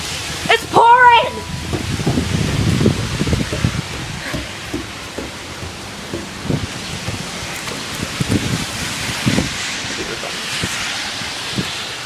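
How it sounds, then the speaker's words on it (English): Heavy rain pours during a severe thunderstorm in La Crosse, Wisconsin, a steady broadband wash with a few louder gusts and patters, while a person talks excitedly near the microphone at the start. "It's starting to pour."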